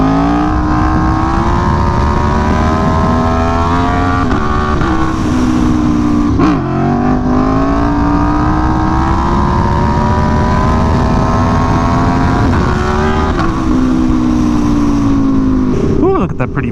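Aprilia Tuono V4 motorcycle ridden on the road in cold autumn weather, its engine droning loud and steady with pitch rising and falling through gear changes while the rider talks over it.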